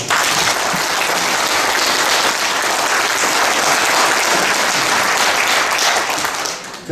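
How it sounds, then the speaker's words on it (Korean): Loud, sustained audience applause at a book concert for a National Assembly member, a dense wash of clapping that holds steady for about seven seconds and cuts off at the end. "이렇게 참 용감하고 대담하게 하신 우리 강동원 의원님의 오늘 북콘서트에 다시 한번 큰 박수 부탁드립니다."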